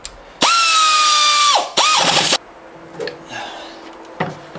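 A Campbell Hausfeld 3/8 inch air ratchet spins loudly to remove a bolt, one sustained pneumatic whine of over a second that winds down, then a shorter burst, followed by faint clicks and handling noises.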